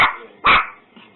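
A dog gives two sharp barks close by, the second louder and longer, followed by a faint brief yip.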